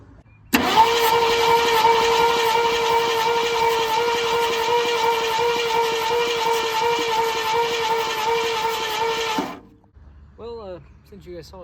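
Starter cranking over the engine of a 1972 Ford F-100 pulled from a pasture, a steady, loud mechanical whir held for about nine seconds before stopping abruptly, with faint sounds afterward.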